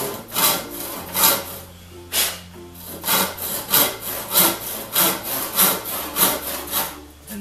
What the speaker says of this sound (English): bring the saw over to the line, and I'm pinching it with my thumb, pushing it